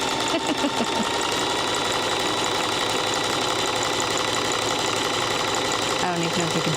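A sewing machine stitching rope, running loud and continuous with a fast even mechanical whir and rattle from start to finish, with a brief clunk near the end.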